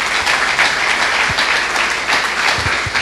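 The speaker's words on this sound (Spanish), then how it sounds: "Denle un aplauso al bendito sea." A church audience breaks into loud, continuous applause, a dense and even roar of clapping hands that fills the space with no speech over it.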